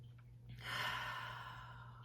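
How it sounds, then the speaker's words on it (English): One slow, deep breath drawn in and then released, soft and airy and heard close up in quiet surroundings, with no talking. "Slow breath in. And a full breath out."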